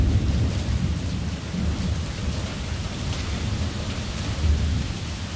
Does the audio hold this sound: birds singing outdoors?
no